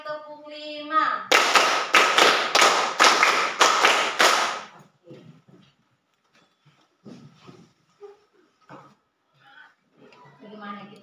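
A classroom group claps during an ice-breaker, giving a quick run of about six loud, evenly spaced claps after a spoken cue, followed by quiet scattered taps and murmuring.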